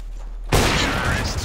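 Sudden burst of gunfire in Counter-Strike: Global Offensive erupts after a quiet moment, loud and sustained rapid shots filling the rest of the moment.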